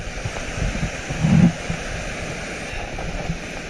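Kaaterskill Falls in New York in winter, a steady broadband rush of falling water heard from nearby, with a brief louder gust of wind-like noise partway through and no voices.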